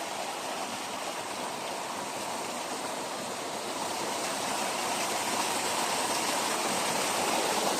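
Creek water flowing beside a rough, collapsed road, a loud, continuous broadband rush close by that holds steady throughout, with no talk.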